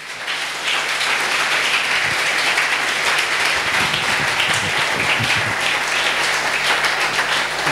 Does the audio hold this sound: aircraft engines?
no